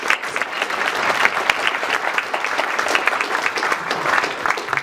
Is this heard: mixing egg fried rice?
no